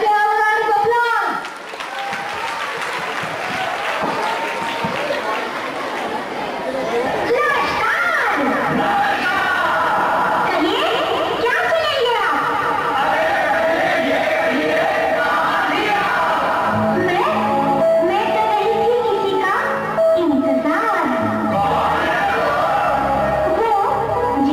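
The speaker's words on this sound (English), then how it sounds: "Can we have a round of applause?" An audience at a school cultural day for a Class 5 performance claps and cheers in a loud, sustained wash of applause mixed with children's shouts and crowd noise, going on for the whole stretch.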